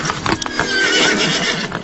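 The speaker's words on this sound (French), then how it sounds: "On va prendre un autre cheval." A horse whinnies loudly and stamps close by, a shrill neigh rising over a few brief hoof knocks, with no talk.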